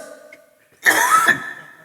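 A single sharp, harsh cough bursts out close and loud after a faint lead-in, lasting about half a second before trailing off.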